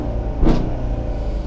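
The V8 of a Chevy Camaro SS 1LE idles with a steady, deep low rumble heard from inside the car, with a brief swell partway through.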